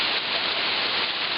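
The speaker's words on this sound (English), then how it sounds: "It is raining again." Steady rain falls outdoors near a 1966 Starcraft Jupiter boat under restoration, a dense, even hiss with no breaks or voices.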